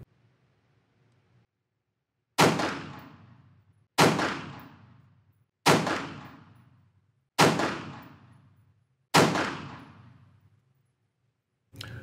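AR rifle fired while sighting in a red dot: five loud, sharp shots at a steady unhurried pace, each ringing out in a long decaying echo, with the start of a sixth at the very end and no talking.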